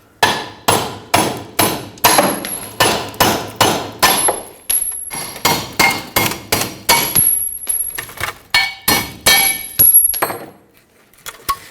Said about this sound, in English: Take a hammer, careful of the threads because we are reusing these studs, punch these out.